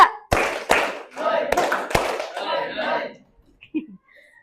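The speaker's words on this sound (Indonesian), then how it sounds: "Tepuk tangan semuanya." A class claps together in a rhythmic pattern during a school counseling session, with several sharp separate claps followed by a scattered burst of clapping and voices, then fading to quiet.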